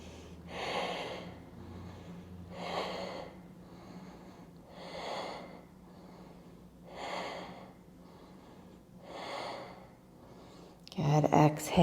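Slow, audible breaths during a yoga backbend, six long inhale-exhale swells at an even rhythm, close and fairly soft, with a brief louder rustle at the end.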